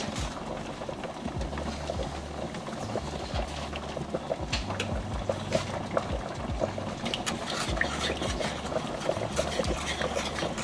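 Seasoned sauce for chicken Alfredo lasagna rolls simmers in a pan, a steady low bubbling texture with scattered soft pops and clicks running continuously at moderate level.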